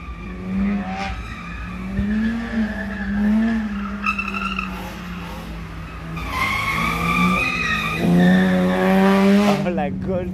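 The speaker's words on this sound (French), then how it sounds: "Oh, la Golf, elle fait un bruit du démon." A Volkswagen Golf drives off hard: the engine revs climb in waves while the tires squeal and skid, loud and close. Voices can be heard in the background.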